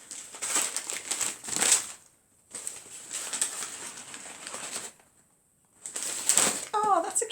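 Paper wrapping torn and crinkled off a book from a book advent calendar, coming in close, loud bursts of rustling separated by brief pauses, with a faint chirp in the background.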